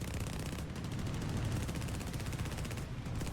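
Spitfire machine guns hammering in War Thunder, a continuous rapid stream of shots held for several seconds with a short break near the end, loud and close.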